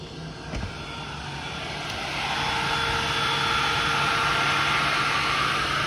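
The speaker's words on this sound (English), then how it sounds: "this Tesla makes a lot of noise while charging." A Tesla Model X charging makes a steady mechanical whirr and hum, like fans or a pump running, rising slightly in level and holding constant, with no voices.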